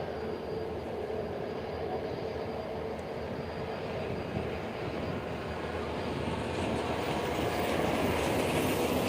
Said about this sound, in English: And now a takeoff by a similar aircraft